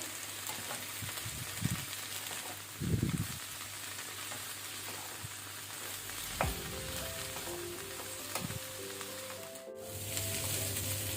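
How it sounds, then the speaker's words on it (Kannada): Cauliflower and green peas frying on high flame while being stirred continuously, a steady close sizzle broken by occasional scrapes and knocks of the spatula against the pan. "ಈ ರೀತಿ ಕಂಟಿನ್ಯೂಸ್ ಮಿಕ್ಸ್ ಮಾಡ್ತಾ ಮಾಡ್ತಾ ಫ್ರೈ ಮಾಡುವ."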